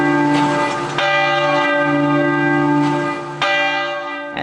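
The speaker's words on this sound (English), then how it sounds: "the bells in Dallas's Thanksgiving Square joined a nationwide chorus to pay tribute to the victims of COVID-19" Church bells ring out in Dallas's Thanksgiving Square during a nationwide tribute to COVID-19 victims, loud, resonant strikes layered with long, humming overtones that sustain and overlap, with fresh strikes near the start, at one second and again near three and a half seconds.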